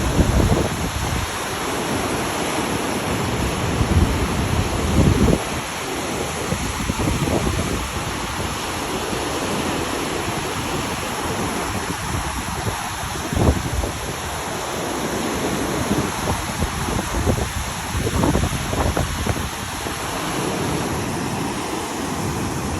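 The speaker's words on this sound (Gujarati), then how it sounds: "હિરણ નદીમાં કેટલું પાણી જાય છે" Loud, continuous roar of the swollen Hiran river rushing, a dense broadband wash with surging bursts and some wind buffeting the microphone.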